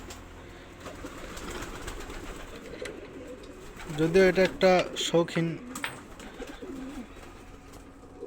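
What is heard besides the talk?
pigeons cooing in a small pigeon farm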